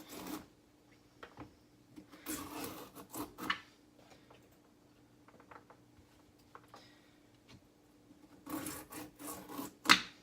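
A kitchen tool scrapes lines along a raw carrot in short, rasping strokes, with bursts of scraping separated by quieter pauses and small ticks, close up and with no talking.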